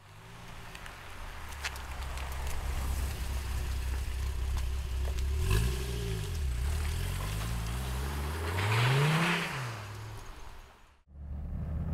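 A 2008 Dodge Viper engine idles with a deep rumble and is revved in several rising and falling blips, the last swell the strongest, before cutting off abruptly near the end.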